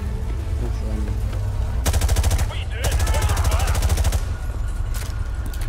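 Rapid automatic fire from Call of Duty Modern Warfare 2 Remastered rattles in two long bursts separated by a short pause, loud and close, with a faint voice murmuring beneath.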